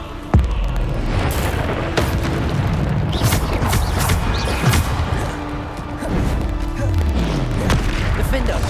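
Bombarda spell explosions in Hogwarts Legacy, a sharp loud blast at the start followed by repeated booms, crashes and thwacks amid busy fight sounds, with some voice-like game audio mixed in.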